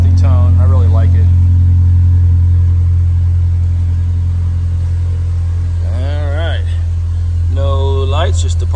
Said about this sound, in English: Give you a little walk around here in the exhaust. Just a nice kind of deep tone to it.